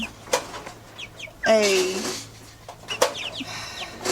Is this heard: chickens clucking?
yes